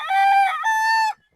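A local-bred stag rooster crows close to the microphone, a single loud two-part call with a rising first segment and a sustained second note that cuts off cleanly.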